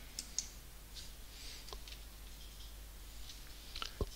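Faint computer mouse clicks and light clicking noises scattered over a quiet background hum during work in course administration software. There are a few sharp clicks, with the loudest one near the end.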